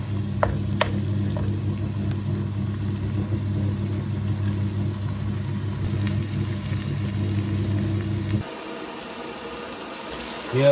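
Onions frying to golden brown in a pan for masala baingan, a steady close sizzle with a low hum that drops away near the end.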